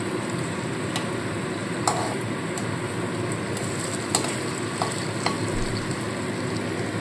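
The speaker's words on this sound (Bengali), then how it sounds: "ভালো করে এক পিঠটা লালচে করে ভেজে নেব, তারপর উল্টে দেবো" Batter of masoor lentils and a single egg fries in a pan with a steady soft sizzle, broken by a few light ticks and scrapes of a turner. No one speaks.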